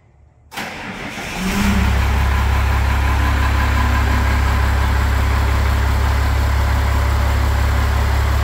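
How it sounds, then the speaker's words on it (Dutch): An overlander van with an upgraded turbo and exhaust cranks and starts, then settles into a loud, steady close-up idle with a deep droning rumble, no voices. "gaan we even testdraaien"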